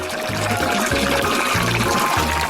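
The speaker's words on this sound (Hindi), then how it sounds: "मैं तुम्हें पानी दूंगी ताकि और फूल दिखाई दे। अच्छे से पानी डाला।" Water is poured onto flowers in a steady, gushing splash that runs loud and unbroken for a couple of seconds, with faint low thumps beneath it.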